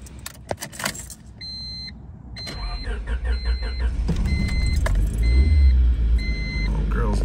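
A Honda Civic cranks over after a jingle of keys and a string of dashboard chimes, then catches into a loud, steady, slightly uneven cold idle close by, with a voice briefly talking early on.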